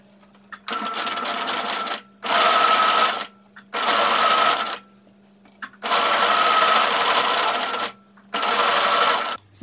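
A sewing machine running a straight stitch along a bra seam whirs in five distinct bursts separated by short pauses, each run close and steady with a faint high whine.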